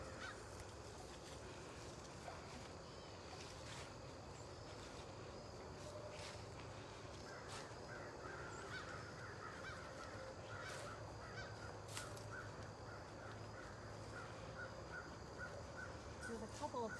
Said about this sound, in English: got some crows calling.